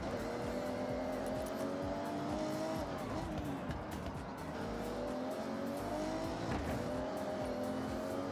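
A raspy race car engine in a video game roars continuously at high revs, pitch dipping briefly at gear shifts, with faint tire squeal.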